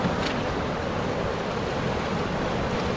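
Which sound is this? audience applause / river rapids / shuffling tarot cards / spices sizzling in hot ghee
river rapids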